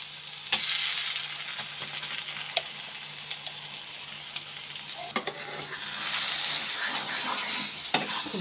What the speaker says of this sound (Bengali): ভাজা পেঁয়াজের সাথে বাটা সিমটা কষিয়ে নিতে হবে।